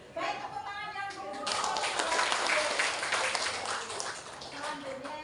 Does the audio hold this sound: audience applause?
yes